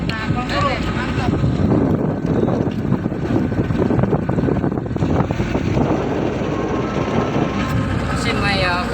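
Speedboat with a 650x220 hull and a Yamaha 40 hp outboard engine running on open water: a steady, loud engine drone mixed with heavy wind buffeting the microphone, with voices faintly audible underneath.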